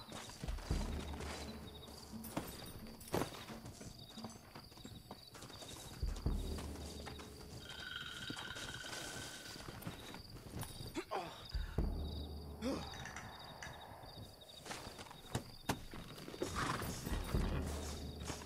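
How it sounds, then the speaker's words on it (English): Horses in the Red Dead Redemption video game: rhythmic hoofbeat clip-clops come and go with occasional whinnies and breathy snorts, fairly quiet, amid other game sounds. "Looks like Carlos left us some horses."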